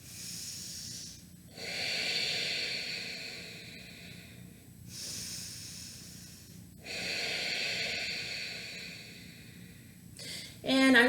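Slow, deep yoga breathing during a seated butterfly pose, long airy inhales and exhales alternating at a steady, relaxed pace, close and fairly loud with no talk over it.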